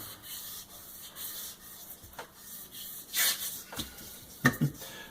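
A rifle part from a Marlin Model 60 is rubbed flat across a granite surface plate, giving short scraping strokes with a few louder sweeps near the end, heard up close with no talking.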